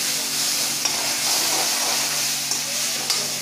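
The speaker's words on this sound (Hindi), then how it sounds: "टमाटर है वो भी मैंने फ्राई होने के लिए डाल दिया है" Tomatoes and finely chopped vegetables frying in a pan for dal make a constant, loud hissing sizzle with a few faint stirring taps, close up and uninterrupted.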